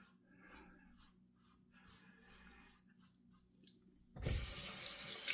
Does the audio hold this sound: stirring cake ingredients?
no